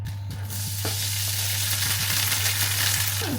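Plant-based vegetarian mince frying in a pan, a steady close sizzle running throughout with a few clicks and faint clatters near the start and end.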